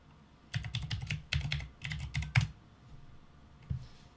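Keys tapped on a computer keyboard while entering a username and password at a login page, coming as quick bursts of close, crisp clicks with short pauses and one last stroke near the end.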